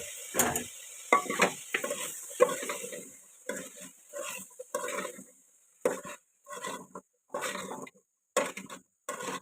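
Soybean chunks stirred in a pan, then vegetables tossed in, giving a series of scraping, clattering stirs with a light sizzle, close and moderately loud, in irregular bursts with short gaps.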